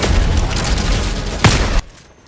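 Sustained gunfire in the video game Helldivers 2, with a player shooting at their own planted flag. It is a loud, dense stream of shots with a sharp final crack, then it cuts off abruptly into near quiet.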